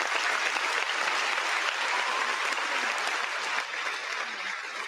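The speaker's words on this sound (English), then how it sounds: "Round of applause, everybody." Dense, sustained applause from a crowd, a loud even wash of clapping that holds steady and eases slightly toward the end, with no talking over it.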